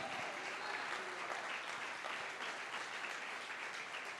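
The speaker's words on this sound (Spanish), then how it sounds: "Dale un aplauso al Señor." A church congregation applauding during a Spanish-language sermon, dense steady clapping that fills the whole stretch at a fairly quiet, slightly distant level.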